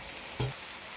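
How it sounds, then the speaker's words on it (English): Lamb mince frying with dhania, a faint steady sizzle with a single short knock of a utensil against the pan. "I will let it fry with my mince."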